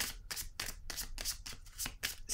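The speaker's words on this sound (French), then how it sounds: "je vais piger une autre carte sur la patience à l'envers." Tarot cards being shuffled and drawn from a deck during a reading, a steady run of crisp, close riffling bursts repeating roughly every quarter second with no voice.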